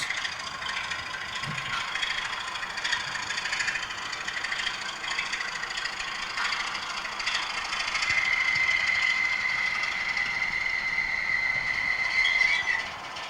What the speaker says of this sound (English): comes through a class 24 with a small freight